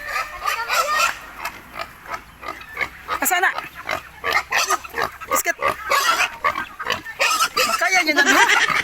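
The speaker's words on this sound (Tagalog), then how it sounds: "Hasan nga baboy?" A farm pig grunts and oinks repeatedly at close range, heard throughout under and between people chatting loudly nearby.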